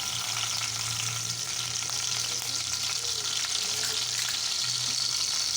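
Green chillies frying in boiling oil for an egg curry, a loud, steady close crackle and sizzle with occasional stirring and no talking.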